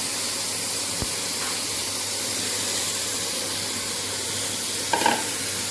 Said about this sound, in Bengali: মাথাগুলো একটু ভেজে নিই